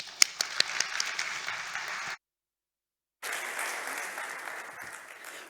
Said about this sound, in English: give the applause to the speakers once again